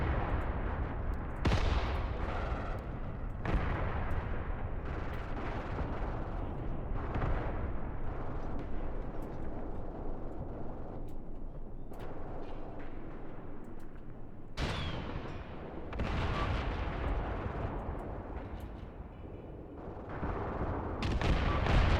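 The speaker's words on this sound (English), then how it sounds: "These AT guns are going off, man, that's insane." Anti-tank guns and mortars fire in a Graviteam Tactics battle, a continuous roar of heavy booms and rumbling blasts, with sharper cracks of fresh shots breaking through every few seconds and no let-up across the scene.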